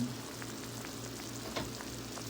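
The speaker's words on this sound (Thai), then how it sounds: "วางกุ้งลงไปเลย" Shrimp laid into a hot pan for a Thai glass-noodle baked shrimp dish, giving a steady, close sizzle and frying crackle throughout, with a few faint stirring knocks and no talk.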